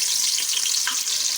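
Chopped onion frying in a generous amount of hot oil while cooking Punjabi kadhi pakora, a steady close hiss and sizzle throughout with no talking.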